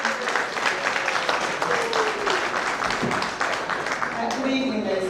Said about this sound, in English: the applause please, come on